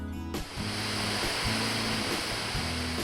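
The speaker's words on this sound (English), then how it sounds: "Waterfalls can be hypnotic." Noccalula Falls in Gadsden, Alabama pours in a dense, continuous roar of falling water, with a low steady musical tone layered on top of it.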